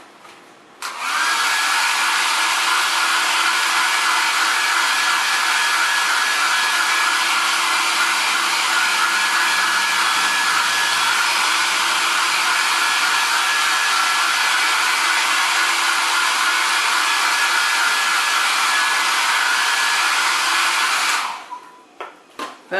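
A hair dryer blows hot air to dry paint on an MDF box, giving a loud, steady whooshing roar with a thin whine. It runs unbroken for about twenty seconds, then switches off.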